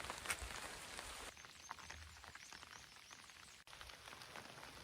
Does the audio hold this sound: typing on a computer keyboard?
no